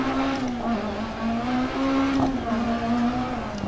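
A Peugeot 306 Maxi rally car in DiRT Rally drones steadily at high revs on gravel, its engine note holding a sustained tone with slight rises and dips and no speech.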